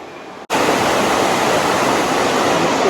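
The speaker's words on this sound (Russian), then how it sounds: "Ну что же, мы дошли до водопада." Steady, loud roar of the Iguazu Falls in Brazil during the dry season, a dense continuous rush of falling water that starts abruptly after a brief quiet moment and holds evenly to the end.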